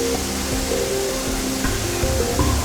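Kamieńczyk mountain stream in the Polish mountains drops in three cascades from 27 metres into a deep pool, giving a steady, broad roar of falling water that stays loud and even throughout, with no voices.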